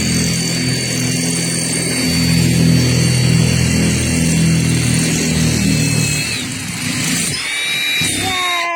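A steady, loud power drill whines and grinds continuously for several seconds boring drainage holes, then winds down near the end with a few brief higher squeals.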